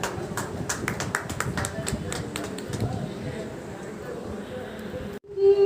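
Applause breaks out at a Hindi poetry gathering (kavi sammelan), a burst of claps that thins out over a few seconds before abruptly cutting off, followed by a brief louder sound.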